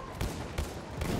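Three heavy gunshot blasts from Battlefield 1 fire about every 0.4 seconds, loud and booming, each with a short rumbling tail.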